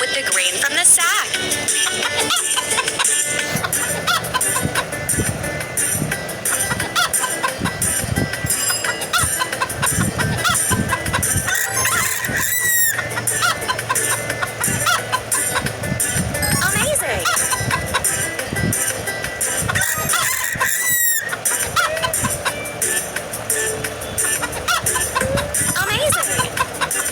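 Cartoon hens cluck busily and repeatedly, mixed with rooster-like calls over a steady musical and voiced background.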